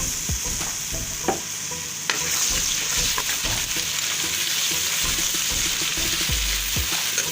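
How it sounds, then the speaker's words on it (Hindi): Garlic ginger paste frying with onions for mutton kaleji: steady sizzle with intermittent stirring clatter, close and continuous throughout, no talking. "प्याज फ्राई हो गया है, अब मैं लहसुन अदरक पेस्ट शामिल कर रही हूँ।"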